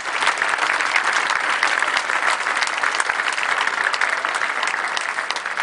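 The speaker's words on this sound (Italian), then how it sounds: "Glielo facciamo un applauso." A concert crowd at the Festa della Musica in Trani, Italy, applauds steadily and densely for several seconds, a continuous wash of clapping with no voices standing out.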